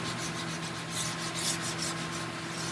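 Steady rhythmic rasping of sandpaper worked back and forth by hand on a broken corner edge, close and continuous, with a faint hum underneath.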